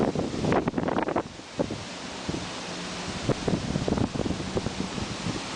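Strong gusty wind buffets the microphone in downtown Manhattan in the aftermath of Hurricane Irene, a loud rushing roar with irregular thumping bursts and no talk.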